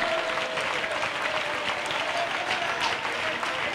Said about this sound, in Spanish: Fuerte ese aplauso al Señor en esta mañana.